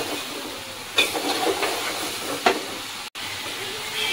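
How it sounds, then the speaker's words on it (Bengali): Bottle gourd tipped into frying hilsa fish and stirred, giving a steady loud sizzling hiss with a couple of sharp clanks of the spoon against the pot. "এখন আমি লাউটা দিয়ে দিচ্ছি, নেড়ে দিব।"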